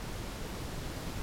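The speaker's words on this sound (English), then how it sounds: "It's a waterfall!" A roaring waterfall in a cartoon safari scene, a loud, steady broadband rush of falling water that fills the whole moment without pause or voices.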